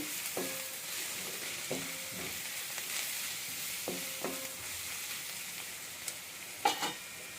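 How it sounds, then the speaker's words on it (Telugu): Onions with turmeric and curry leaves are stirred in a frying pan, giving a soft, steady sizzle broken by a few scraping spoon strokes at a regular pace, fairly quiet and with no talking. "పసుపు కరివేపాకు ఇది కూడా వేద్దాము వేసి మంచిగా ఇలాగ ఒకసారి కలిపి పెట్టినట్టు చేసి"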